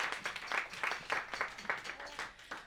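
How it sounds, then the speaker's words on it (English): Audience at a comedy show gives a short burst of applause, a dense patter of clapping hands rising and falling in a few waves. "One more round of applause for the wonderful Yael Rozanes."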